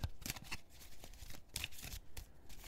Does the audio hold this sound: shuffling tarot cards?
yes